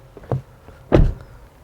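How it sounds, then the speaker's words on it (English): Power door locks on a 2019 Chevrolet Silverado All-Star Edition pickup actuate with two brief mechanical clunks, a light click followed by a louder thunk, close up with no talk. "Push the button once to unlock the driver's door"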